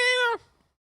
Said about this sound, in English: Sounds like my void kitty.